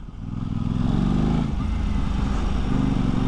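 An Aprilia RS 660 sport motorcycle pulls hard in second gear at low revs around 2,500 rpm, its deep, throaty drone building steadily and loudly up close.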